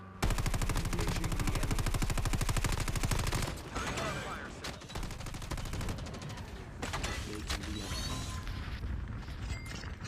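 Rapid automatic gunfire rattles loudly in Call of Duty Mobile, followed by scattered shots and crashing impacts, with brief voices under the battle noise.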